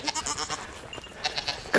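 Goats on a farm bleating, several short wavering calls close by over a steady outdoor background, with no talk.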